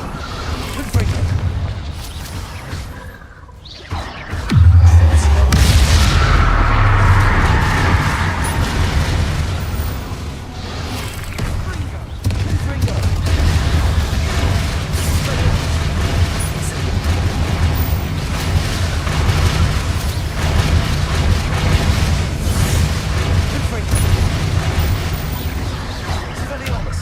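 A Confringo fire spell in Hogwarts Legacy blasts with a loud booming burst that rolls into a long, dense rumble of explosive debris and combat noise.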